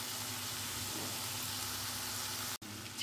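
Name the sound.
sautéing chicken curry in pan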